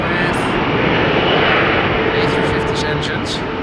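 Airbus A350 jet engines roar at Amsterdam Schiphol Airport on a rainy day, a loud, steady rumbling whoosh that swells slightly midway, with indistinct voices breaking in toward the end.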